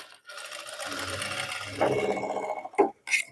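A sewing machine runs steadily, stitching across joined fabric strips to secure a crossed seam, its motor whirring close and continuous for most of the stretch before stopping with a couple of short bursts near the end.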